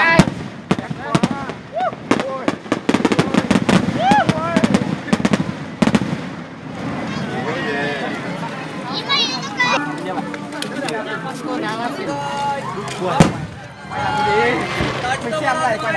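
Fireworks at a festival crack and boom in rapid, dense bursts at first, then the popping thins out beneath excited crowd chatter and nearby voices talking.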